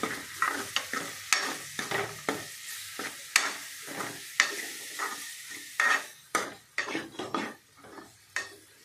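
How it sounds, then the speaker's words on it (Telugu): Spiny gourd pieces frying with turmeric and ginger in a pan, a spoon stirring and scraping in rhythmic strokes over a steady background sizzle, with sharp metallic clinks against the pan, close and clear with no talking. "అల్లం మొత్తం కలిసేలా కలుపుకోవాలి."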